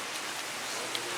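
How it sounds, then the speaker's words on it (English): Rain falling near the windy summit of Mount Washington, a steady close hiss of drops with no break and no voices. "What, it's raining?"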